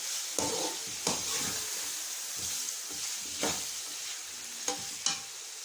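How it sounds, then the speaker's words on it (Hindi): Chicken pieces for biryani frying in a pan, a steady close sizzle broken by repeated scraping stirs at irregular intervals, with no talking. "अब इसको तकरीबन 5 से 10 मिनट अच्छे से भून लेंगे।"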